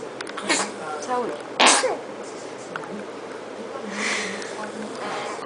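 A single sharp sneeze bursts out amid a home setting with a baby, surrounded by a few breathy noises and faint background voices.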